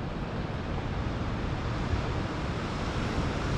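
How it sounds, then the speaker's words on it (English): Ocean surf at Uluwatu, Bali, rolls in below the temple cliffs as a broad continuous roar mixed with wind rush, steady and fairly loud, with no voices. "You can see the waves crashing in."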